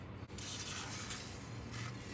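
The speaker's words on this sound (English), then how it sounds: "I'll spray this anywhere there's a little hole." An aerosol can sprays penetrating lubricant into the holes of a rear brake rotor on a 2013 Toyota Tundra, a close, hissing burst that cuts briefly, then continues steadily.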